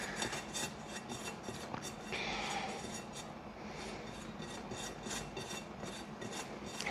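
A large spatula spreads and swirls frosting on a giant cupcake cake, making a steady, close rasping scrape with rhythmic strokes throughout.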